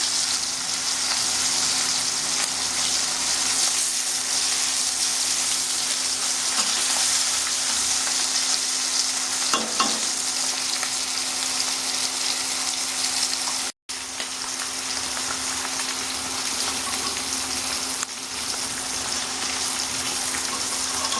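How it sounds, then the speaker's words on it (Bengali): Hilsa fish pieces fry in hot oil, browning for a Bengali-style jhaal, giving a steady, close, loud sizzle that hisses continuously, with a brief dropout partway through and no voices. "ঝাল করতে গেলে একটু ভাজতে হবে লাল করে আমি ভেজে নেবো"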